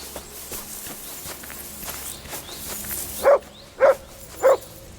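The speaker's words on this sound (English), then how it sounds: "You silly doggy." A dog in the video game Kingdom Come Deliverance 2 gives three evenly spaced, sharp barks over soft footsteps and background ambience.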